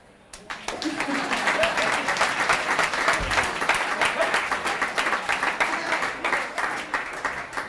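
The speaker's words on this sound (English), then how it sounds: "Clap." An audience breaks into sustained applause, a dense wash of many hands clapping that starts abruptly and holds steady before thinning into separate claps toward the end.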